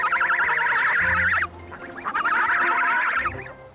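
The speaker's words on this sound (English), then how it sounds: "Goslings must learn quickly how to survive." Young goose goslings call on the open Canadian tundra in summer, two bursts of rapid, wavering high peeps, each about a second and a half long, with lower soft calls in the brief gap between them.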